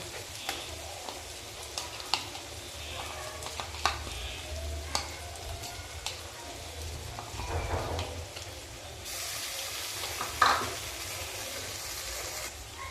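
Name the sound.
frying and stirring masala with eggplant in a pan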